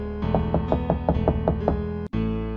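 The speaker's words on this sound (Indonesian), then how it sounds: "itu ada yang ngetok pintu kamar pelan banget" Soft, evenly spaced knocks land on a cheap beachside hotel room door in the middle of the night, about seven close muffled taps in a steady rhythm followed by a brief silence.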